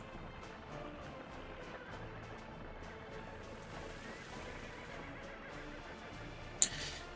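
Horses in the city-building game Workers & Resources: Soviet Republic whinny faintly among quiet ambient game sounds, with one short sharp click near the end.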